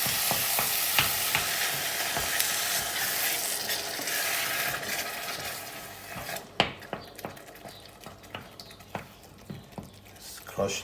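Peeled tomatoes drop into a pan with shrimps and a loud, bright sizzle starts, then settles into softer frying beneath a string of spoon scrapes and clinks against the pan.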